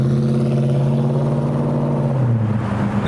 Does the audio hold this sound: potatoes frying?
no